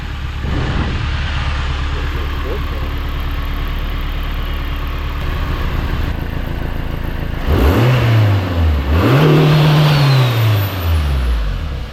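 A turbocharged Honda Accord engine idles with a steady low rumble and whirring hiss, then revs up twice in rising and falling surges before settling.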